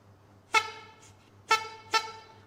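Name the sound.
toy car horn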